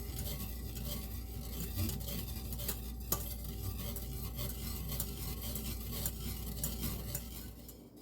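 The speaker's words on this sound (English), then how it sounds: "And then I'm going to stir it some more." A spoon stirs a mixture flavoured with maple extract, giving a steady, continuous scraping and swishing against the bowl for several seconds, close and moderately loud with a faint background hum and no talking.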